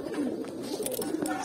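Pigeons coo softly in a loft of silver and other fancy breeds, a low rolling murmur throughout the short moment, with a voice talking nearby.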